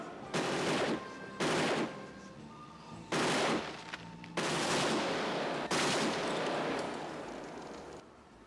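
Bursts of gunfire ringing out in a series: five loud, noisy blasts spaced about a second apart, the later ones longer and sustained like rapid fire, trailing off into a fading rumble with no talking.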